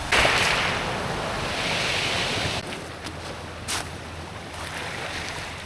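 Boat motoring over open sea while fishing for giant tuna off Mauban, Quezon, with steady wash of water and wind noise, a louder surge of spray early on, then a calmer continuous rush with a brief slap midway.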